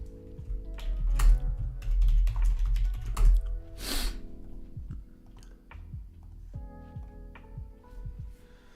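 A computer keyboard clatters with quick bursts of keystrokes and a few heavier key thumps, close and steady, busiest in the first few seconds before it settles into lighter, scattered typing.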